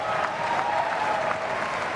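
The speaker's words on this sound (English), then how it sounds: "Crowd going bonkers here in Grand Central Terminal" A large squash crowd at the Tournament of Champions in Grand Central Terminal cheers and applauds loudly and steadily, a dense wash of clapping with shouts mixed in, sustained throughout.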